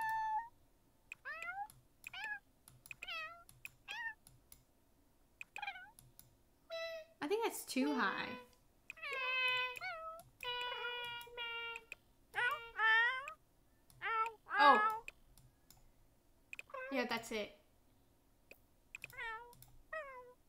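A cat in The Sims 4 meows repeatedly in bursts of varied pitch, some drawn-out and wailing, with people talking between the calls.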